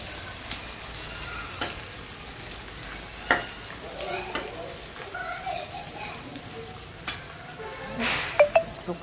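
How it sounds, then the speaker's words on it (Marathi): Carrots and mixed vegetables frying in a pan for noodles, a faint, steady sizzle with occasional stirring clinks and scrapes, fairly quiet throughout. "गाजर छान असं मस्त फ्राय करून घ्यायचे सगळी भाज्या आपल्याला"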